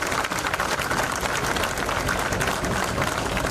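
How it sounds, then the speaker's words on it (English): An audience at a management institute event applauds the chief guest with steady, dense clapping throughout, loud and continuous with no pauses. "Let us all thank him with all appreciation and a resounding applause."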